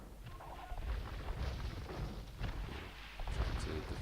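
Cannon galleons fire in Age of Empires 2, giving a run of dull booms and rumbling impacts at moderate level against busy battle noise.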